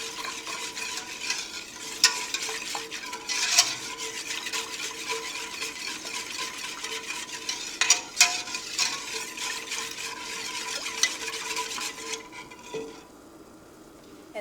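Ice cream custard batter being stirred in a bowl, a steady wet scraping and swishing that runs close and fairly quiet, with a few sharper clinks of the utensil against the side before the mixing stops near the end.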